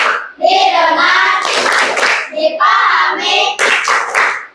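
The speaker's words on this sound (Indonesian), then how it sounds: "Ulang sekali lagi biar lebih semangat. Tepuk fokus." A class does a rhythmic focus clap, with sharp hand claps in patterned bursts alongside children chanting together.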